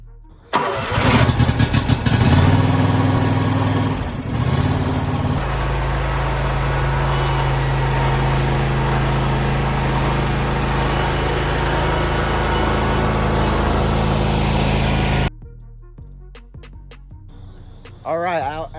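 A Wright Stander X stand-on lawn mower engine cranks and starts, then runs at a loud, steady drone close by before cutting off abruptly, with a voice heard briefly near the end.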